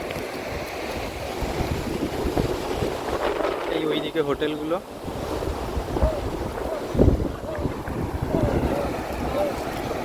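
Strong wind on Mandarmani beach at dusk, a constant loud rumbling gust buffeting the microphone with surf washing underneath, while someone talks briefly over it.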